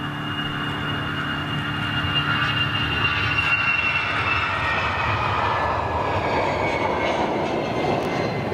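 A jet airliner passes overhead on its way into Luton Airport, a steady broadband engine roar that swells and slowly fades across the whole stretch, with no voices.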